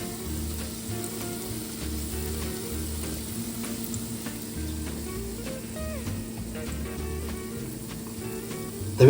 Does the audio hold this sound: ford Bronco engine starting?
no